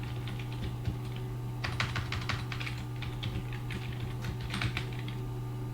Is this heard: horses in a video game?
no